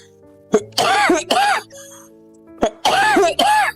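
A person coughs close up in harsh, rasping bursts: one short hack, then two longer coughs, a pause, and another similar group.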